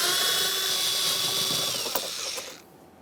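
A ratcheting 7mm socket clicks steadily while backing out the rear exterior door handle mounting bolts on a 2015-2020 Ford F-150, a close, continuous mechanical whirring that stops abruptly near the end.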